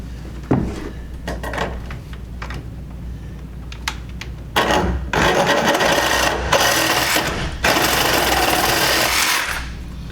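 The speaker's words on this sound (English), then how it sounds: "let's see if I can get a good saw on here" A handsaw cuts through wood during a small cleanup job, rasping in steady back-and-forth strokes, intermittent at first, then sustained and loud up close.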